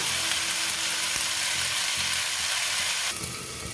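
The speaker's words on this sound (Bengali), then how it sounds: "সুন্দর করে ভেজে নেবো।" Bottle gourd greens and vegetables frying in a pan, a dense, even sizzle close up that eases slightly near the end, with no voices.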